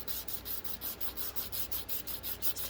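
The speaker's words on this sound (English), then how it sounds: "Just a little bit sanding." Rhythmic back-and-forth sanding of a dip powder nail with dried flower inlay and milk bath finish, a steady close scratchy rubbing repeated about four times per second, alone without talk.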